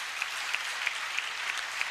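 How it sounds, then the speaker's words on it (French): Applause for Jesus from a church convention congregation in Togo: steady, dense clapping from a large crowd, with a few sharper claps standing out at a regular pace throughout. "Acclamez pour Jésus"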